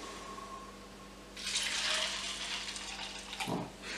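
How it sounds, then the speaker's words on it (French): Water is poured from a kitchen tap over muesli seeds, sunflower and pumpkin, as a soft, close hissing stream that begins abruptly and runs steadily for a couple of seconds before tapering off. "Et je rajoute de l'eau."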